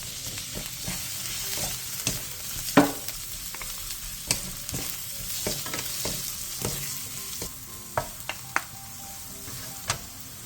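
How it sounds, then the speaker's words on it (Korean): Fish cake and minced garlic sizzle steadily in an oiled pan over high heat while a utensil stirs and scrapes, giving irregular clicks and taps over the frying hiss. "팬에 기름을 두른 뒤 어묵과 다진 마늘 반 스푼을 넣고 센 불에서 볶아주세요"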